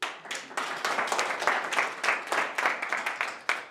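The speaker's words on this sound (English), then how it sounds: "Applause, please." An audience at a talk bursts into applause, dense close clapping from many hands that pulses steadily throughout with no pause.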